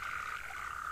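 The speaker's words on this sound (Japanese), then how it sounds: "あ、カエルがいる。" Frog croaking in the video game The Endless Forest at a pond, a continuous rasping, buzzing croak held for a full second, close and loud with no talk.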